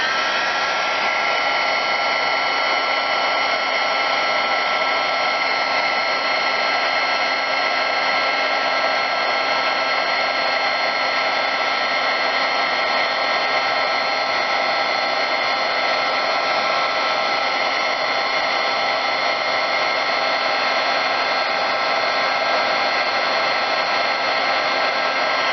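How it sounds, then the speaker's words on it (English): A heat gun blows steadily for the full stretch, melting embossing powder on paper during a craft session; its airy whir and fan hum hold loud and unbroken, with no talking. "And now let's do the heat gun on that."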